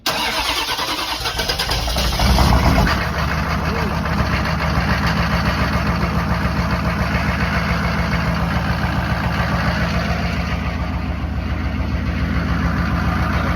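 A cold vehicle engine cranks and catches roughly, then settles into a loud, steady, slightly uneven idle with a rhythmic pulsing throb, heard close and alone.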